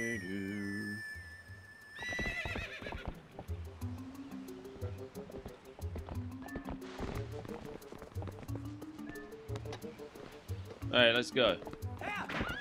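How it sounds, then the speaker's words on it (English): Horse neighing and galloping in Zelda: Twilight Princess, a whinny followed by rhythmic hoofbeats over game music, with someone talking briefly and a second loud whinny near the end. "Oh, I need a horse."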